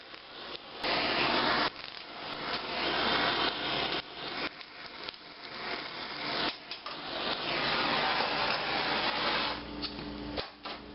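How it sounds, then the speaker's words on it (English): A handheld kitchen torch chars the bare patches on peppers while making fajitas. Its roaring hiss runs steady and close, broken by a few brief pauses. "if you have a few bare patches and you do have one of these torches, you can use it. And you'll burn those spots right off of it"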